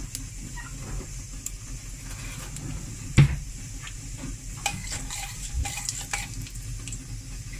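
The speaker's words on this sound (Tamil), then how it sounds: "கறி லீவ்ஸ் தான் என்கிட்ட இருக்கறனால அதையும் போட போறேன்" Curry leaves and urad dal fry and sizzle steadily in hot oil in a pan for a South Indian sambar, with a soft continuous crackle, stirring and a sharp utensil clink partway through.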